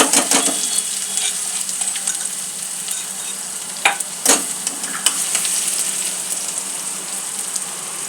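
Steady sizzle and crackle of crushed garlic and chili frying in oil with mustard seeds and cumin, with a few sharp clinks of a spoon against the pan, no voices.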